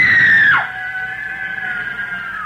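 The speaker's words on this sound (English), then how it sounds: "The girl, screaming with rage," A girl screams with rage in a sharp, shrill cry that bends downward and then trails off into a thinner, sustained wail, loud and close, with no speech around it.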